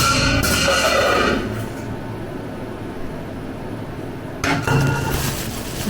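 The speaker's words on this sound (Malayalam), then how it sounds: "പാത്രം തെറിച്ചത് കുടഞ്ഞതാണ്" A kitchen vessel clatters and rattles as it is shaken, in two loud bursts at the start and near the end with quieter background noise between.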